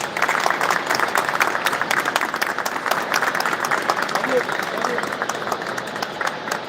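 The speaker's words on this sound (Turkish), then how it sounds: "Kuvvetli bir alkış." Strong applause fills a club awards ceremony as a trophy winner is called up, a dense, close wash of clapping sustained throughout with voices blended in.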